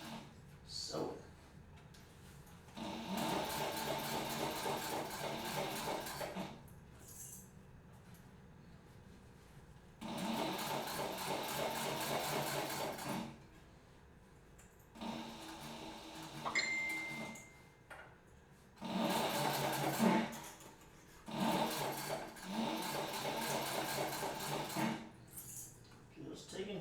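A sewing machine stitches through the thick layered seams of a children's backpack in several steady bursts of rapid mechanical whirring, separated by short pauses, heard up close.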